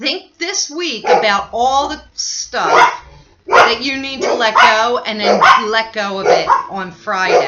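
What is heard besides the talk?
dogs barking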